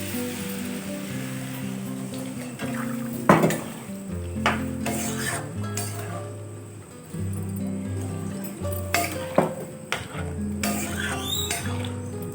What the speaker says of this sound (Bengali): একটুখানি আমি জল দিচ্ছি।